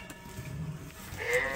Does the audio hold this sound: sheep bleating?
yes